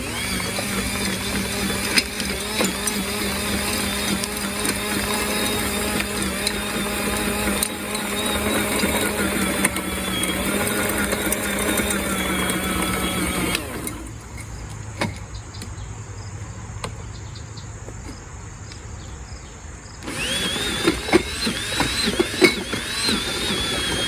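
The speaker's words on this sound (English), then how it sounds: "now I'm just gonna till it in, and mix it up in there real good" A garden tiller churning fertilizer into a Mittleider grow bed for carrots, a steady mechanical whir and rattle that dips to a quieter idle for several seconds before revving back up.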